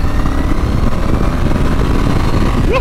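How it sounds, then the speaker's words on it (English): A Triumph Bonneville T120 with its 1200cc engine runs with a loud, steady low rumble close by, holding an even throttle throughout with no speech. "you got to love the way the engine on this bike delivers its power"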